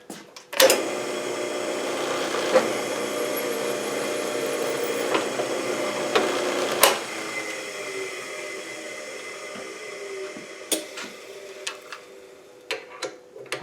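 Drill press running a reamer lubricated with cutting oil to enlarge a hole, a steady mechanical hum with sharp clicks and knocks, winding down and leaving scattered taps at the end.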